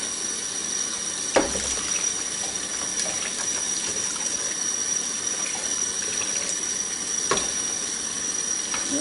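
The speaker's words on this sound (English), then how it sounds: "Rinse that off real good." Running tap water pours steadily over the tray of a Waring food slicer during cleaning, a constant hiss and splash with a couple of sharp knocks as the tray is handled under the stream.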